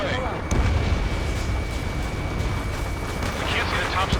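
In the jet combat game Ace Combat 7, a missile launches with a sudden loud whoosh, followed by a continuous roaring rumble of engines and explosions, with radio voices talking over it.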